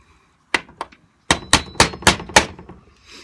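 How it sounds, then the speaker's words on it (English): A hammer strikes a GI AR-15 magazine part to drive it back into place: two quick knocks, a pause, then five sharp, close, evenly spaced blows with a softer tap after. "Just hammer it back, however you need to do it."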